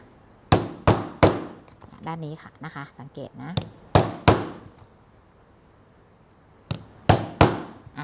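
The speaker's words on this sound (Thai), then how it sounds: "แล้วไปตอกซี่ที่สองนะคะ" Hammer blows driving a metal punch through cap pieces to make stitch holes, sharp loud strikes in quick groups of two or three with pauses between, while someone speaks softly in between.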